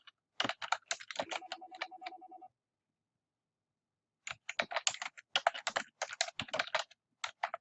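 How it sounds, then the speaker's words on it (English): Someone types on a computer keyboard, producing a close, quiet run of rapid key clicks, then a pause, then a second burst of typing. "I'm going to type"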